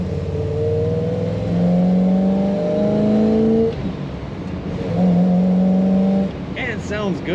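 A 1962 Chevrolet Bel Air driving on the road, with a steady engine drone that rises and falls as it shifts through its gears, heard from inside the car under someone talking.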